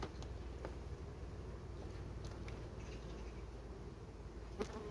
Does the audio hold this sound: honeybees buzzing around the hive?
yes